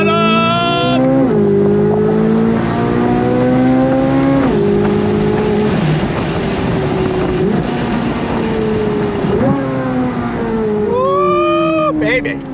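A Chevrolet Corvette C8 Z06 at full throttle, its engine climbing loud and close through repeated rising sweeps with quick shifts between, ending in another fast rev, with occasional whoops from people on board.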